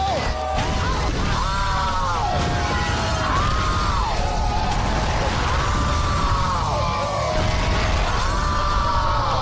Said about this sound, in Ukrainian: вони ще й на повтор цей крик поставили на кожний інший кадр